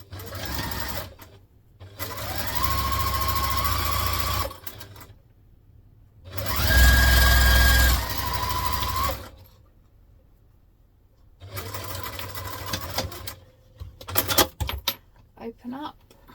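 A sewing machine stitches fabric pieces for a hobo bag in three separate bursts of steady motor whir, the middle run loudest, with short light clicks and rattles near the end.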